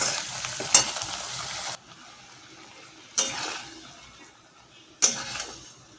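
Spices for a vegetable biryani with potatoes frying in a pan, a small splash of bowl-rinsing water hitting the hot oil three times with sharp hissing bursts that slowly die into a softer sizzle.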